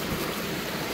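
Ayaas River flowing down from Mt. Banahaw in Quezon Province, Philippines, a dense, steady rush of water over rocks, close and continuous.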